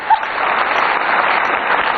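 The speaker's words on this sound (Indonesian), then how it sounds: "Kita kasih tepuk tangan dong Bang Adiaksa." Studio audience on a televised talk show clapping for a guest, a continuous even burst of applause heard through a bandwidth-limited broadcast feed.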